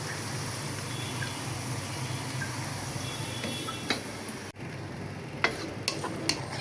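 Sliced onions fry in a pan as they brown into crispy beresta, with a constant dense sizzle and scattered light clicks and scrapes of stirring, close and with no talking.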